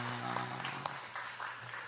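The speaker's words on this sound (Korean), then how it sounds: "뜨겁게 박수로 환영하겠습니다" A church congregation claps in welcome, a soft, scattered patter of applause following a brief spoken voice, moderately distant and fairly quiet.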